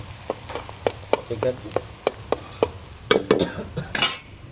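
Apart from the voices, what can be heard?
onions frying until reddish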